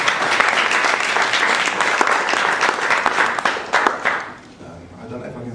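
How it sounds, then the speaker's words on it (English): Audience applause at the Freedom Soul 2012 evening event, dense steady clapping from a crowd that carries on for several seconds and then thins out and fades near the end. "maybe a round of applause for the people that have organised this"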